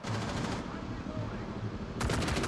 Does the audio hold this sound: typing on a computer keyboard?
no